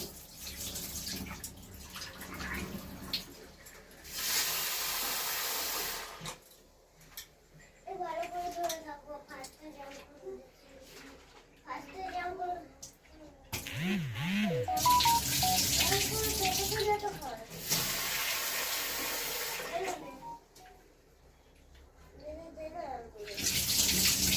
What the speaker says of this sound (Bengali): ডালটা এইভাবে কচলে ধুয়ে নিলে একদম ডালটা পরিষ্কার হয়ে যাবে